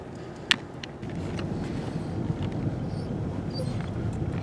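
A 1990 Ford Probe GT rumbles past with a low, steady exhaust drone through a small muffler, heard outdoors with wind buffeting the microphone and a brief sharp click near the start.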